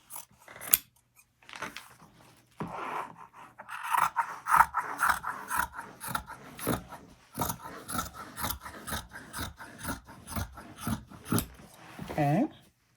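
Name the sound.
scissors cutting fabric for a pillow cover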